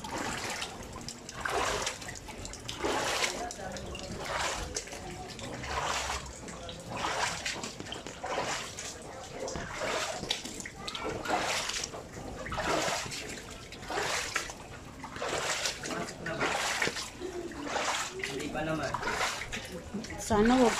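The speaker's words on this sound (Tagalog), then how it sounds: "Yan po ang baha po sa amin." Floodwater during Typhoon Carina, heard as continuous rushing and splashing in repeated surging bursts, mid-distance, with people talking over it throughout.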